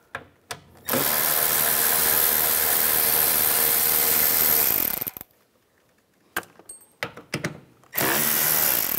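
A power drill with a 10 mm socket runs loud and steady for about four seconds, zipping off the nuts and a bolt holding the driver-side mirror of a 2011-2019 Ford Explorer. After a gap of faint handling clicks, it starts again.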